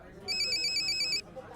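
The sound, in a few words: mobile phone ringtone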